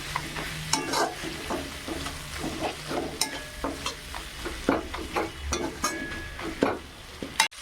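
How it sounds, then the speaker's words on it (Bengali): Cumin paste frying in a pan for a mung dal dish with fish heads, giving a steady sizzle under repeated rhythmic spatula scrapes and knocks against the pan, close and loud, no voices. "এর মধ্যে জিরে বাটা দিয়ে দেবো। এবার আবার একটু ভালো করে কষিয়ে নেব।"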